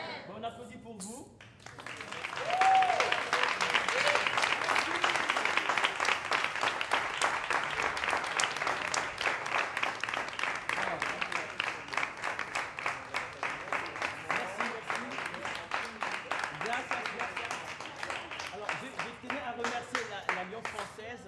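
An audience at an Alliance française cultural event breaks into sustained applause, a dense steady wash of many hands clapping that swells after a quiet start and continues evenly, moderately distant.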